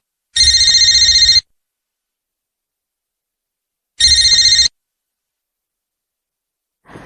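A telephone bell ringing in two loud electronic bursts, about a second and then half a second long, separated by silence, with the start of a third at the very end.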